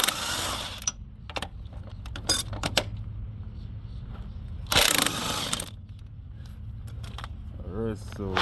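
A hand ratchet works loose an engine mount bolt on a Ford Focus. It clicks in several short, close bursts between pauses, and someone talks throughout.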